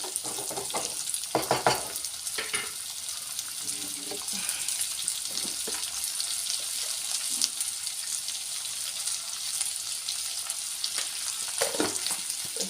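Salted pieces of spiny gourd being stirred in a clay pot, with a soft, steady sizzle and occasional scraping strokes against the pot, heard close over a gentle background hiss.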